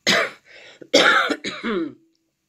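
A person coughs and clears their throat several times in quick succession, close and loud, with no talking.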